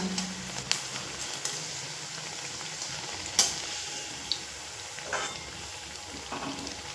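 Green banana koftas fry in oil with a soft, constant bubbling sizzle, marked now and then by faint clicks and light stirring.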